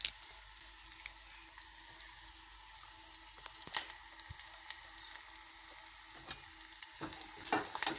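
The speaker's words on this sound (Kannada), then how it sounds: "ನೋಡಿ ಇವು ಮೂರನ್ನು ಚೆನ್ನಾಗಿ ಫ್ರೈ ಮಾಡ್ಕೋಬೇಕು" Garlic, curry leaves and onion frying in a pan for a potato palya, a faint steady sizzle with scattered pops and a few sharp utensil taps.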